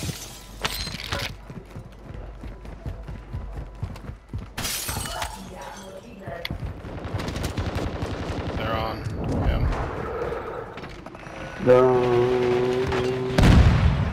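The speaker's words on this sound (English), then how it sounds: "No, I'm getting shot at." Gunfire and bursts of shots in the Call of Duty Warzone battle royale on Ashika Island, with sharp cracks and shattering impacts scattered over game music and effects, while a player talks in between.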